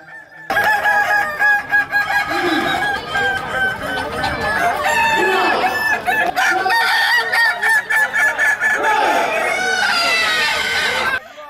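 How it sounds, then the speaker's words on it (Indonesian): Kukuak Balenggek roosters in a crowing contest in Padang, many overlapping long, loud, warbling crows sounding continuously, close and dense, with a voice talking over them. "Dalam hitungan 15 menit, masing-masing ayam dihitung jumlah kokok dan iramanya oleh 3 orang juri."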